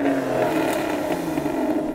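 An Aston Martin engine revs up close for a sound check, a loud, sustained droning growl with a steady pitch that cuts off sharply at the end.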